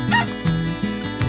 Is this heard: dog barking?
yes